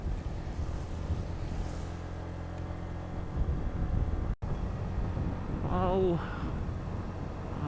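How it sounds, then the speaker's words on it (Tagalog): Strong, cold wind high up in Malico, San Nicolas, Pangasinan, buffets the microphone with a steady roaring rush, and a voice speaks over it near the end. "sobrang lakas ng hangin dito sa taas"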